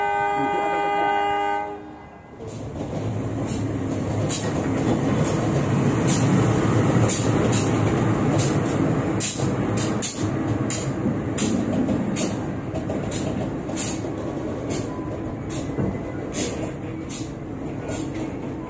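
A Pasundan passenger train runs on the rails after a short horn blast at the start, followed by steady close rumbling with regular rhythmic clicks of wheels over rail joints.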